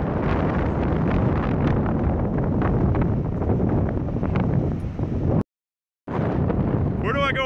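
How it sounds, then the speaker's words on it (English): Tornado wind roars loudly against the phone microphone in open country, a continuous heavy buffeting rush that cuts out briefly near the end before resuming, no clear talk. "Tornado, literally a fucking tornado right in front of my face. It's taking off now, boys. Here comes the wind too."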